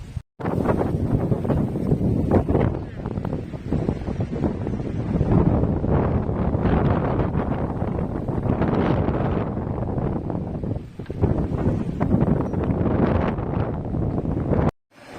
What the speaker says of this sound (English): It's pouring. Well, it's not pouring as such, but it's pretty wet.